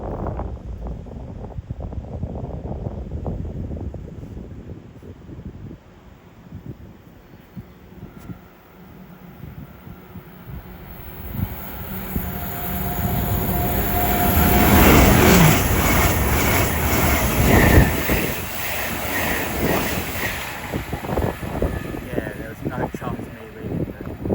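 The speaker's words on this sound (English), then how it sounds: "West Coast Aviator unit going from Chester to London Euston, I suspect" A West Coast Avanti unit running from Chester to London Euston passes through Watford Junction on the West Coast Main Line, swelling from a distant rumble to a loud roaring rush with wind buffeting, while someone talks.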